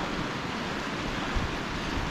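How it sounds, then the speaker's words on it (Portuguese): Waterfalls along a mountain hiking trail near Huaraz, Peru, a steady broadband rushing roar of falling water, dense and continuous for the short stretch, with no voices. "Mas, cara, um monte de cachoeira no caminho."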